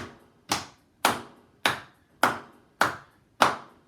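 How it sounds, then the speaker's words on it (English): Seven single hand claps land one by one at a steady, even pulse in a classroom rhythm exercise for young students, each sharp and close with a quick decay, with no voices. "Now claps"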